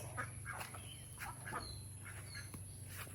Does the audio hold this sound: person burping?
no